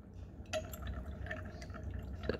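Liquid drips from a burette into a glass flask during a school chemistry titration of brick cleaner: a few faint, isolated drops and a light glassy tick over a steady low background hum.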